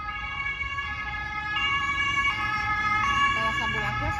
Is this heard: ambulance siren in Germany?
yes